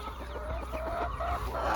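Speckled Sussex chickens cluck in a quick, busy run close by, with a rooster mixed into the flock noise and no voices.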